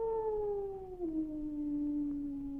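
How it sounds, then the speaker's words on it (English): A dog in a 1971 thriller film gives one long, drawn-out howl that slowly slides downward in pitch and holds steady, moderately loud and alone. "He howls every time we lose one."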